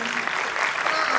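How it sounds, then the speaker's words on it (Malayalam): A crowd at a film trailer launch event breaks into loud, dense applause, a brief continuous roar of clapping with no pauses. "let's give them a loud round of applause for that great beginning and introduction"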